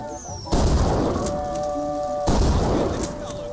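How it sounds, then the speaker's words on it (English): Gunshots ring out at a shooting gallery in the video game BioShock Infinite: two loud, booming bursts of fire that sustain for about a second each, over tonal game music and talking voices. "Where do we have to shoot at?"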